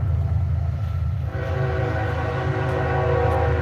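A train horn sounds a sustained, chord-like blast over a continuous low rail rumble. The horn comes in partway through and holds loudly to the end, with no voices.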